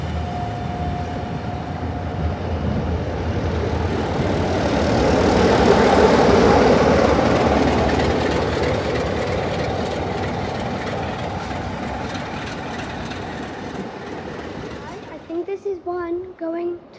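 The Royal Scot steam locomotive at Bristol Temple Meads station: a low, steady engine rumble swelling and easing over many seconds, with a brief tone early on and voices speaking close by at the end.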